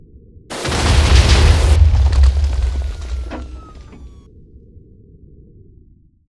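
Explosive rounds detonate in the Minecraft video game, one loud booming blast with deep rumble that rolls and fades over several seconds, followed by lingering crackle and a low tail.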